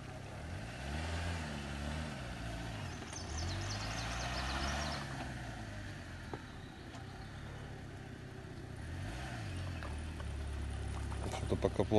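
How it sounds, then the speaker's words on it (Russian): A small off-road vehicle engine strains while pushing through a deep rut, revving up and down in slow waves with the motor struggling, faint and distant under people talking nearby. "Сейчас Андрей будет пробивать колею."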